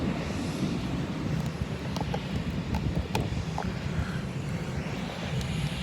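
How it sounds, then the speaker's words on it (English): Steady aircraft noise from an aeroplane near an airport terminal rooftop, a continuous low rumble under wind and faint scattered clicks, with no talking. "Pointing the camera at an aeroplane."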